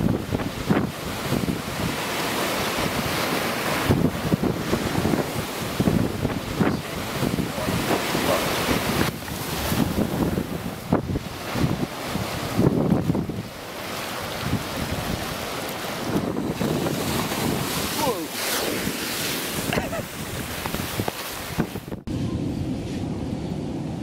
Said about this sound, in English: A coastal town in England gets quite flooded during high tide and rough seas.